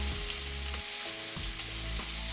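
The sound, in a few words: stirring sizzling onions in a pan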